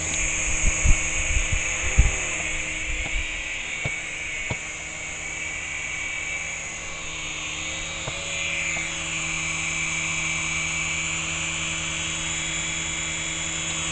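A battery-powered RC helicopter hovers low to the ground, giving a constant high motor whine and rotor buzz. A few sharp clicks and bumps sound early, then the hover holds steady to the end.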